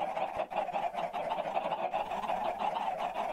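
A packed group of Minecraft chickens crammed into a gap in a farm keeps clucking continuously, overlapping calls forming a steady, moderately loud chatter with no talk.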